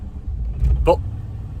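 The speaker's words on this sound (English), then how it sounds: "the truck's been running for probably about 45 minutes" A Chevrolet S10 pickup truck engine running after a long drive, a steady low idle rumble filling the short stretch, with a brief voice cutting in near the middle.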